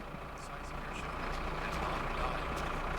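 Tractor engine in My Summer Car, a low heavy rumble that builds slightly and runs steadily beneath a speaking voice.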